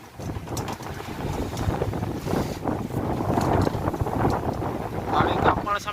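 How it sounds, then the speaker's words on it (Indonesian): Strong storm wind howls across a boat at sea off Taiwan, with seawater rising onto the vessel; a steady, loud, rushing gust roar fills the whole stretch with buffeting on the microphone. "Angin ribut sob."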